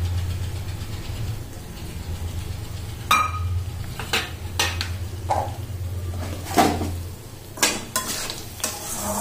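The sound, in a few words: stirring pulao with a spoon in a cooking pot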